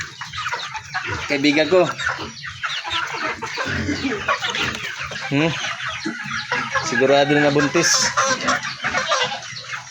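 Chickens on a small backyard farm clucking steadily and fairly loudly throughout, mixed with a person talking over them.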